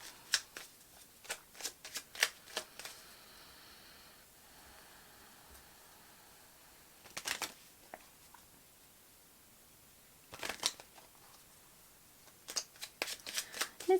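A deck of tarot cards shuffled during a pick-a-card reading: several close bursts of quick riffling flutters separated by quiet pauses, soft and intimate, with no voices.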